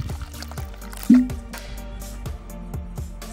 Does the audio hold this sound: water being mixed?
yes